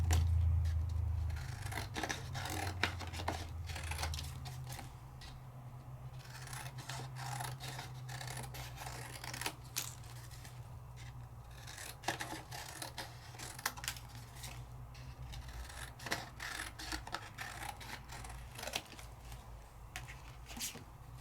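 Scissors trim out stamped paper pieces in repeated short snipping cuts with soft rustling of the paper between them, close and fairly quiet, with no voices.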